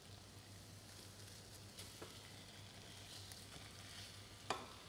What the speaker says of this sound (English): You'll see that it's starting to sizzle and the onion is translucent.